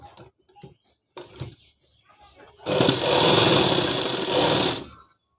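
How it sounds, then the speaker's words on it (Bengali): A sewing machine stitches fabric for a college dress in one sustained run of about two seconds, close and loud, after a stretch of quiet handling noises and brief speech. "তারপরে মেপে নিতে হবে একবার, দিয়ে সেলাই করে নিচ্ছি।"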